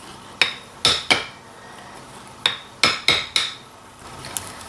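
Banana muffin batter being mixed in a bowl, with several sharp clinks of a utensil against the bowl in uneven bursts, fairly close and alone without talk.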